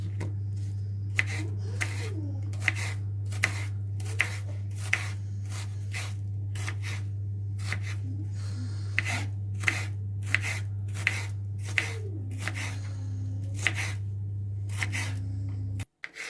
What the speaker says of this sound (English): Now next step is I will chop the onion.